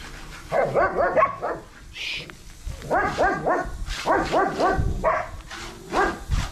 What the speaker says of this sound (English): here's the doggies. Can't forget the doggies.